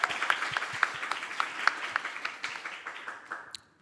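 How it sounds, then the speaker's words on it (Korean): Audience applause greets a guest at a K-pop chart launch event, with scattered, distinct claps from a modest crowd that thin out and fade toward the end. "박수 부탁드리겠습니다"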